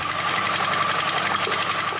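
A machine crushes gold ore rocks at a small mining site, giving off a loud, steady mechanical rattle and rapid knocking vibration that runs continuously and close up, with no talk over it.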